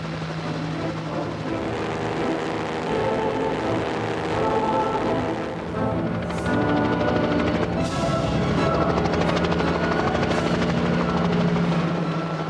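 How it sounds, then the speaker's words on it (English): A Bell 47, the first civilian helicopter, with its rotor and engine droning steadily and loud throughout, joined by a thicker throbbing layer toward the end, with no talk over it. "This, the first ever civilian helicopter,"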